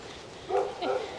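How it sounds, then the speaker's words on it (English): Neighbours' dogs bark in a couple of short, sharp bursts at middle distance over a steady outdoor hiss. "Today they're just doing some barking."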